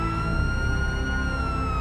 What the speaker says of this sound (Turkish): Polis sireni lan!